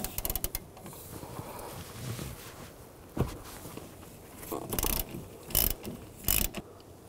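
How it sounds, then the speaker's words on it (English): A 13 mm socket ratchet works the wiper arm nut on a 2002-06 Chevy Avalanche, giving close clicking and grinding metal mechanism sounds in short bursts over a low background, with no speech. "Use a 13 millimeter socket, take this nut off."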